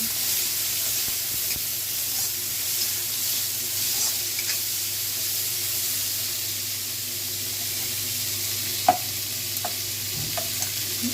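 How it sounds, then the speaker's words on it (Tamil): Chopped onion and tomato fry in hot oil in a pan, giving a steady, close sizzling hiss with a few faint clicks and scrapes of stirring. "இப்போ எண்ணெய் சூடானதும் வெங்காயம் தக்காளியை போட்டுடலாம்"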